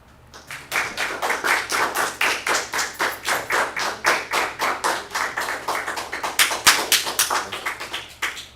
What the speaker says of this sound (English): I would ask you to please refrain from applause